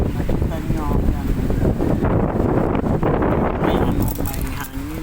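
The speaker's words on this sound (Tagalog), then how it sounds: "May hangin, malakas ang hangin" Strong wind blasts steadily across the microphone outdoors near a school in Hong Kong during a typhoon with light drizzle, a constant loud rushing roar with gusty swells throughout.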